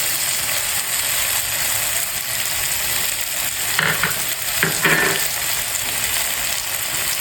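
Tomatoes and green chillies sizzling in a hot pan, a loud steady fry with a few scraping stirs and clinks partway through.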